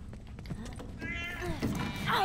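A cat meows in the video game The Last of Us Remastered, a few drawn-out, rising cries heard close and clear over a steady background of game ambience.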